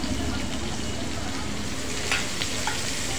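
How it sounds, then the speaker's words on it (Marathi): Onion frying in hot oil for a homemade spicy cashew masala, a steady close sizzle throughout with light stirring and a couple of brief clinks near the end. "आता यामध्ये आपण कांदा घालणार आहोत या तेलात।"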